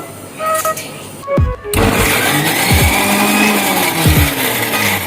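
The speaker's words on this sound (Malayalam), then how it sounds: "ഇഞ്ചി, വെളുത്തുള്ളി, വേപ്പില ഇതെല്ലാം കൂടി മിക്സിയിലിട്ട് അടിച്ചെടുക്കും." A kitchen mixer grinder whirs loudly and steadily, blending ginger, garlic and curry leaves into a paste for Kerala-style fried chicken, starting up after a short pause with a dense motor roar.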